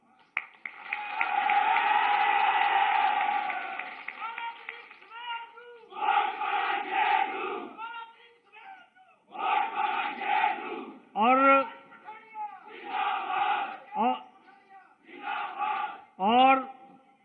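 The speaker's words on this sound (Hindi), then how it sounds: "आपके नारे और आपकी तालियों की गड़गड़ाहट सुन रहा था" A large crowd at an election rally in Fatehpur, Himachal, erupts in a sustained roar of cheering and applause, followed by repeated rhythmic bursts of chanted slogans with short pauses between them.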